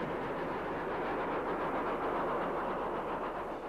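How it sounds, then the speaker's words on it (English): Caprotti valve-gear Stanier Black Five steam locomotives running, heard as a continuous broad roar of train movement with faint rhythmic clatter, steady and fairly loud throughout, no voices. "both the locomotives seen here are Caprotti valve-geared versions of the familiar Stanier Black Fives"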